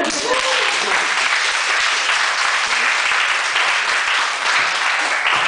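Steady, loud applause from a crowd, dense clapping filling the whole stretch without a break, with a few cheers mixed in.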